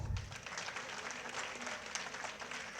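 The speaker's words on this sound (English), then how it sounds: "I really request every parent to really clap for my" Parents applaud the teachers at a school program, a steady wash of crowd clapping across the whole moment with a brief low thump at the start.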